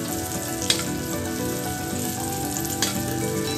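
Butter frying in a pan, a loud, close, continuous sizzle with two brief sharper spatters, and no voices.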